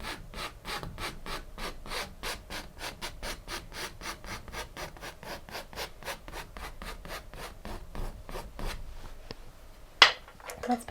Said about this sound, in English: so we can just kind of scrape some of that paint down